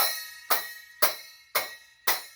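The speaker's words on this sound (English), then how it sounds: "We've got little hand cymbals" Five bright metallic clangs of small hand cymbals, evenly spaced about half a second apart, each ringing out and fading before the next.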